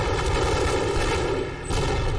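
Sustained gunfire and explosive booms from the video game Half-Life: Opposing Force, a dense continuous barrage that stays loud throughout with a brief dip near the end.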